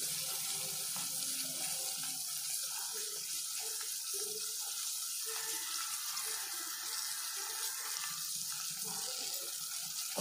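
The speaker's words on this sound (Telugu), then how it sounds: "ఇప్పుడు మనం ఇందులో కావాల్సిన నీళ్ళు పోసుకుంటాము" Water pours steadily into a cooking pan while semiya upma is being made over a slow flame, a continuous close splashing rush that runs unbroken throughout with no talk.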